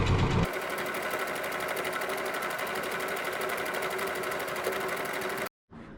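A grandmother's sewing machine stitches cloth with a close, rapid, steady mechanical chatter that starts after a brief pause and cuts off suddenly just before the end.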